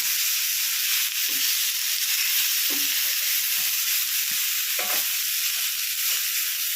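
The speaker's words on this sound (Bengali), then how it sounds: "ভালো করে কষিয়ে নেব।" Chicken sizzles and fries in a pan with salt, turmeric and chili powder, a steady bright hiss running throughout with a few soft scrapes of stirring and no talking.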